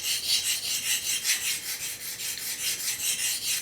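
Rhythmic steel-on-diamond rasping of a knife edge drawn freehand across a DMT coarse diamond stone, steady back-and-forth strokes at close range with no voices.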